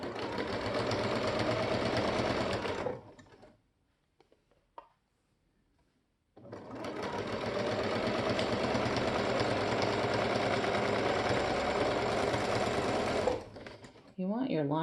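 Sewing machine stitching a T-shirt being made into a tank top, running in two long steady bursts with a short pause between, close and loud.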